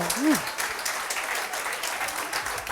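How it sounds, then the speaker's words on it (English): Audience applause after a Nerd Nite talk, a moderate, steady patter of clapping from a room of listeners, with a brief voice or sliding tone near the start. "All right, let's have a round of applause for Will"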